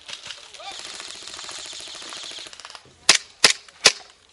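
Airsoft guns fire during a skirmish at Area 48 in California. After a stretch of faint rattling background noise, three sharp, close snaps come in quick succession, with voices talking faintly.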